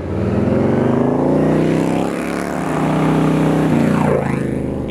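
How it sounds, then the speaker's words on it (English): A Roland Sands Design Harley-Davidson Performance Bagger motorcycle rides the twisty S6 road up Palomar Mountain in San Diego County, its engine a steady loud drone with a shifting pitch, and wind noise over it throughout. "it was now time to ride the RSD Performance Bagger on one of the best roads in San Diego County"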